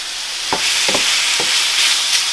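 Garlic and onion sear in a hot pan with salt, a steady bright hiss of sizzling fat punctuated by a few soft scrapes as the pieces are stirred around, close and fairly loud with no voices.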